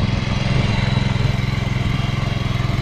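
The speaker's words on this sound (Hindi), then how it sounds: "और ये रहा ट्रैक्टर।" Tractor running in a dry field during lentil sowing in an Indian Himalayan village, a loud, close, rhythmically chugging engine thumping steadily with no voices.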